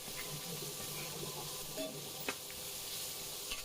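Potatoes sautéing in a pan with salt and turmeric hiss and crackle steadily, with a few clear spatula scrapes and taps against the pan, close and fairly loud, no voices.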